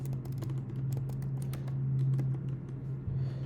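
Several quick, faint keystrokes tap out a short phrase on a computer keyboard, clustered in brief bursts over a low steady hum.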